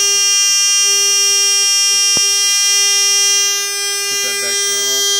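An International 4001 fire alarm panel buzzer drones in a steady, loud, harmonic-rich tone throughout, with a sharp click partway through and a person speaking over it toward the end.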